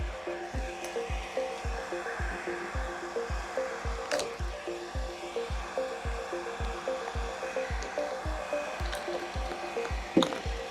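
Heat gun blowing a steady airstream as it warms paint protection film on a car hood, a continuous close hiss with a rhythmic low thumping beneath it and no talking.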